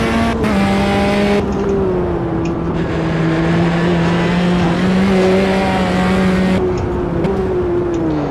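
Race car engine in the Automobilista 2 sim drones loud and steady, its pitch wavering gently through shifts and corners, with no talk over it.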